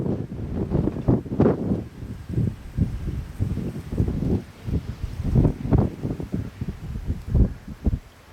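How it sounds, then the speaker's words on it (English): Wind blowing on a mountain hike down a rocky slope in Big Bend National Park, buffeting the microphone in loud, low rumbling gusts that rise and fall unevenly throughout, with no talk. "It's nice with the wind, keeping it cooler."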